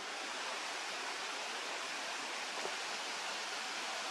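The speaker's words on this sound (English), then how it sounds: "Just figured I'd show a little moment here of babbling brook and trees and rocks and stuff." A babbling brook flowing among trees and rocks beside a trail gives a steady, even wash of rushing water throughout, with no voices.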